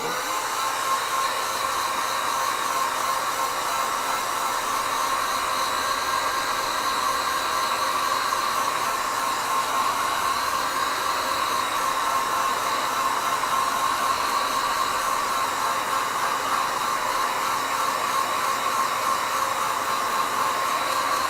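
A hair dryer drying gouache paint blows steadily and loudly for the whole stretch, a constant whooshing roar with a faint motor whine and no pauses.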